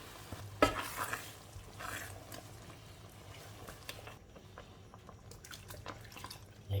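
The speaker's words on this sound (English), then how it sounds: "I'll mix up my ogbono together." Ogbono soup being stirred as it cooks in a pot, soft wet scraping and gentle sizzling bubbling, faint and close with occasional spoon knocks.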